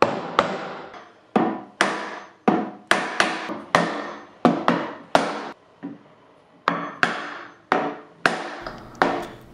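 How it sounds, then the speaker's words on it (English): Repeated sharp hammer strikes on a wooden block driving a socket into a bar cart leg, about a dozen loud knocks in uneven rhythm, each ringing briefly before the next. "take a piece of wood and just tap the top of it until it dug into the"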